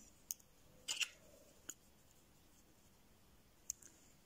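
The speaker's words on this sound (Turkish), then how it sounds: "bu noktada da çift düğüm attım ve ipimi keseceğim" A few quiet, close snips of small scissors cutting thread after needle-lace work, with sharp isolated clicks spaced apart against near silence.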